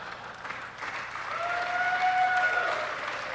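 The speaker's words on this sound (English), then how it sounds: "Why are you clapping?" A crowd claps at a comedy-style talk, the applause rising gradually from sparse to fuller and staying moderately distant, with a faint tonal whine running through the middle.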